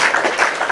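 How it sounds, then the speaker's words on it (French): Brief audience applause at a World Book Day reading event, a loud dense patter of clapping hands over less than a second. "Des applaudissements pour toi et pour mes petites filles."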